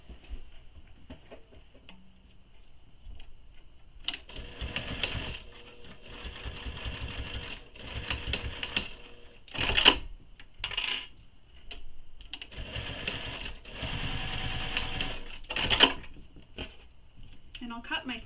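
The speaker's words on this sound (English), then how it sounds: "I now need to top stitch these." A sewing machine top stitches a nylon bag in several bursts of rapid mechanical whirring. Short pauses and clicks fall between runs, and quiet handling noises fill the gaps.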